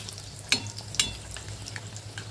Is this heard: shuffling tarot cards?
no